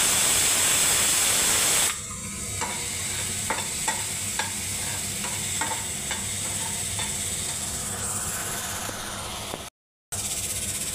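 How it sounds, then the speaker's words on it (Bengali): Food stirred in a frying pan over a steady sizzling hiss, with repeated soft scraping strokes from a spatula; moong dal cooks in a pressure cooker nearby. No talking. "এবার আমি নাড়তে থাকবো"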